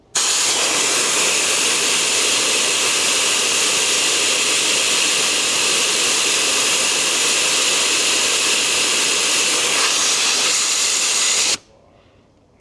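Air rushes out of a tire through a Jaco Lightning RX4 rapid tire deflator as a loud, steady, close hiss that runs for about eleven seconds and then cuts off abruptly.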